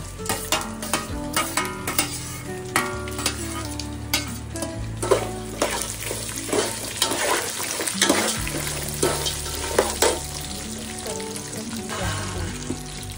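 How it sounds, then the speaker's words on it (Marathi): Mustard seeds, fennel, peanuts, dal, coconut, curry leaves and chillies frying in hot oil produce a continuous close sizzle with busy crackles, punctuated by repeated stirring scrapes and clinks against the pan, with no talking. "तर तेल तापलेलं त्याच्यामध्ये टाकली आहे राई, बडीशेप टाकली आहे आणि हे शेंगदाणे, डाळ, खोबरं, कढीपत्ता, मिरची सर्व."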